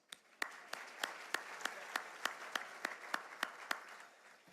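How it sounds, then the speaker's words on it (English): An audience at a Louisiana business luncheon applauds, a soft, fairly distant wash of clapping with regular sharper claps standing out before it fades. "Would you please give them a round of applause?"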